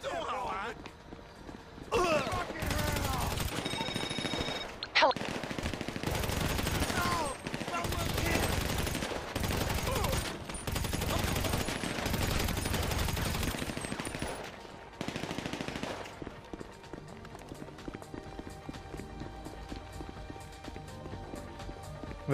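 Gunfire in the video game GTA Online, the casino DLC, loud bursts of automatic shots in repeated volleys, with players talking over them.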